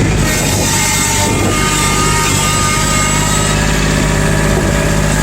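A Kubota L2501 tractor engine runs loud and steady at close range while plowing snow off a driveway, a constant diesel drone with no talk over it.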